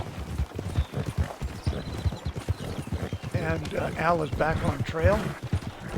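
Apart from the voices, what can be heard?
horse pulling a cart, hooves, in Red Dead Redemption 2 video game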